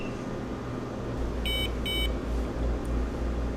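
A G450 gas detector alarm beeping during a manual bump test, two short, sharp electronic beeps in quick succession over a low steady hum.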